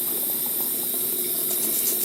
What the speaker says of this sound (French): Et je me relave le dessous des ongles.